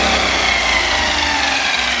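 A Traxxas Maxx RC car spins its wheels at full speed to fling water out of holes cut in its tires, giving a loud, steady motor roar that runs unbroken for the whole two seconds, with no talking.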